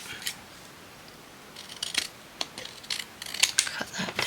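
Scissors cutting paper for a concertina journal tab: a few sparse snips at first, then a quicker run of crisp close-up cuts and rustling paper.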